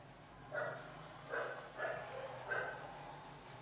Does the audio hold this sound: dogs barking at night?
yes